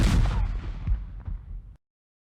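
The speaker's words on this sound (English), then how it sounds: "At that moment, the grenade exploded in the next foxhole." Grenade explosion effect from a visual novel game: one heavy, booming blast with a deep low-end punch that rumbles and decays over about a second and a half before cutting to silence.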